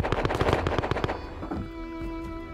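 A Tommy gun in the game Rust fires a rapid, loud burst of automatic shots for about a second and a half, followed by ringing echo and a lingering hum.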